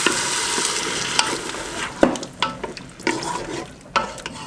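A garlic clove browns in a hot pan, giving a steady sizzle and frying hiss with a few sharper stirring clatters and scrapes throughout, heard close and alone.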